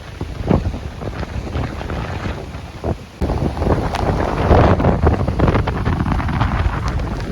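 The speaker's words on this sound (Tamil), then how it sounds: "காற்று அடிக்குது" Strong storm wind in Jaffna roars steadily across the microphone, with heavy gusty rumble and waves splashing beneath, growing louder partway through.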